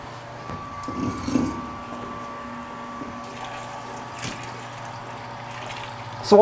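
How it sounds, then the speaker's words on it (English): Pump recirculating brewing liquid from the top through the grains, down the bottom valve and back through hoses, a steady low mechanical hum with gentle trickling water, a few soft clinks and a louder knock at the end. "So all the liquids are recirculating from the top all the way through the grains, down the bottom valve, then through the hoses and the pump, all the way back to the top."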